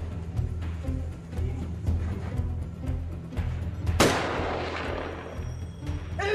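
Warning shots in urban combat during the Iraq War battle of Ramadi, a string of sharp gunshots popping at irregular intervals amid heavy rumbling, with one loud close blast echoing out and no talk.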